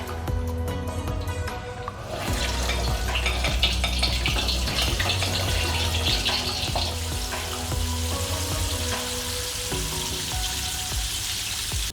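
Chicken wings coated in flour sizzle steadily in hot oil, a loud, dense, continuous frying hiss that stays close throughout.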